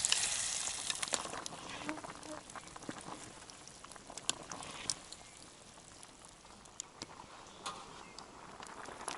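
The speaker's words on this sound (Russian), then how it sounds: "Дождь моросит, да, опять?" Light drizzle patters faintly around a campfire in the woods, soft scattered drops and ticks over a low wash, with a few quiet voices in the background.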